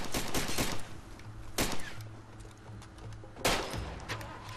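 Far Cry 2 gunfire sounds in loud, sharp shots, a quick cluster at the start and two later blasts, close and punchy over a low in-game engine drone.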